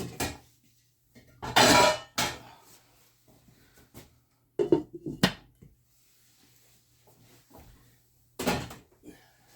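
Metal pot lid clanks being set onto a pot of simmering West Indian style butter chicken, several sharp clattering knocks in quick bursts with quiet pauses between, close by.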